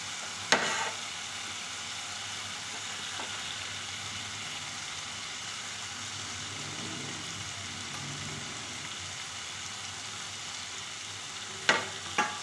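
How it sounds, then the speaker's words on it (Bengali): Cabbage is added to spices frying in oil in a pan, setting off a steady, loud, continuous sizzle with a few brief clinks and stirring knocks at the start and the end. "মশলাকে কষিয়ে তো বাঁধাকপিটা দিয়ে দেবো"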